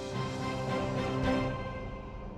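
A Douglas DC-3 propeller airliner in flight, a steady droning engine hum with layered harmonic tones that swell slightly midway, continuous and fairly faint, with no talking.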